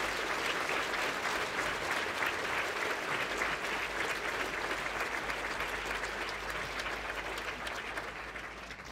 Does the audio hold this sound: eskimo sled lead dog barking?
no